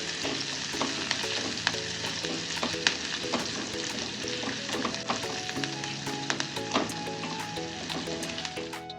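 Grated ginger and finely chopped green chillies sizzle steadily in hot oil, a dense continuous crackle with occasional sharper pops and light stirring clicks, close and fairly quiet throughout.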